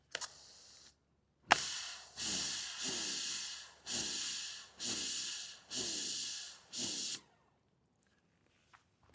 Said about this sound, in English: Are we having a dilemma with our pressure washer?